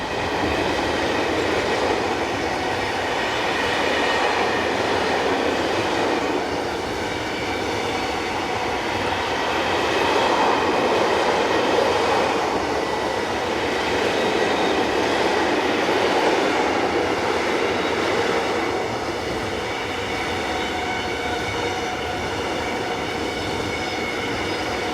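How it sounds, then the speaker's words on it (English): A tri-voltage electric locomotive hauls a long intermodal freight train past at close range, a steady rumble of wheels and wagons with rhythmic clatter and faint squeal lasting throughout, no voices. "tri-voltage locomotive number 37046, heading north with train 40366, formed of mainly Ambrosio intermodal vehicles"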